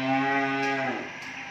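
A single drawn-out cow moo on a cattle farm, loud and close, fading after about a second.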